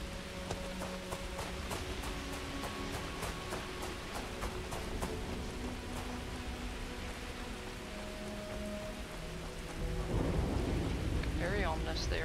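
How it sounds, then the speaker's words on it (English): Storm on a planet in the video game Starfield: steady rain hiss with low thunder rumbling throughout, growing louder and heavier near the end, with no one speaking. "Very ominous there in the storm."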